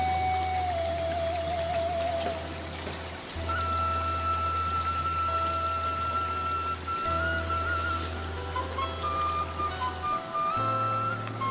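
Swift water rushing steadily through a remote Sukabumi village, a continuous close hiss with a low rumble throughout, plus faint tonal whines layered on top.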